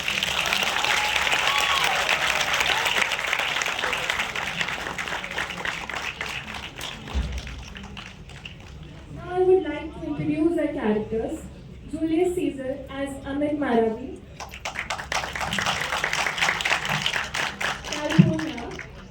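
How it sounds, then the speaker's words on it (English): A theatre audience bursts into loud sustained applause after a student performance of Shakespeare's Julius Caesar, then it fades under a stretch of talking before the clapping swells again toward the end. "Please give a team a huge round of applause."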